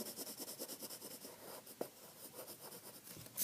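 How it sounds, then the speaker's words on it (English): Pencil shading on paper with quick, rhythmic back-and-forth scratching strokes, faint and close, with one sharper tap partway through and no talking. "So you can use your crayon to do that. I'm going to use a pencil."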